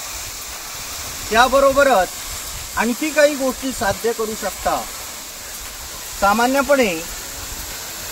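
The Yeram waterfall, which keeps flowing even in summer, gives a continuous soft rushing hiss of falling water in the background while someone speaks over it.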